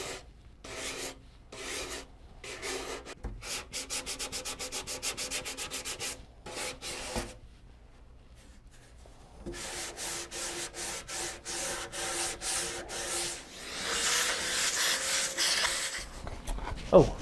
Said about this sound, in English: very careful when you're sanding the shoulders up here